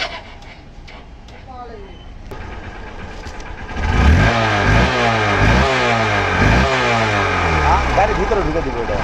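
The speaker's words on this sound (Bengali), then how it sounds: "দেখাবো এখন বাইকের সাউন্ড।" A Hero Hunk motorcycle engine, first low and quiet at idle, then loud from about four seconds on as the throttle is blipped in repeated rising and falling revs close to the microphone.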